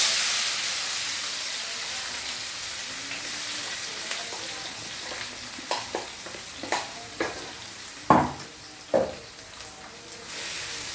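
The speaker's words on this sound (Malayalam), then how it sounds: "വെളുത്തുള്ളി, ഇഞ്ചി, പച്ചമുളക്, തക്കാളി, സവാള, കുറേ സാധനങ്ങളാണ് നമ്മൾ വഴറ്റുന്നത്" Steady frying hiss of ground garlic, ginger, green chilli, tomato and onion paste in a pan, with several sharp scraping strokes of a spatula toward the end, close and fairly loud, no talking.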